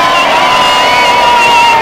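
A crowd cheers loudly at an outdoor castle event for the Wild Man, a dense, continuous roar of voices and whoops that stays strong and close throughout.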